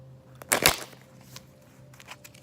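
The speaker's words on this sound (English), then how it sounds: "I'm shuffle one more time" Tarot cards are shuffled by hand in a couple of short, soft riffling bursts, close and quiet, with no talking.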